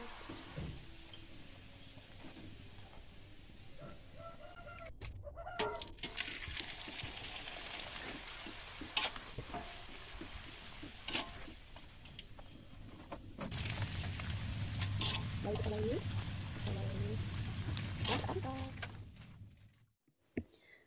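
Homemade potato crackers frying in hot oil over a low flame give a steady, fizzing crackle like light rain, sometimes swelling louder, with a few sharp clicks and knocks from the pan.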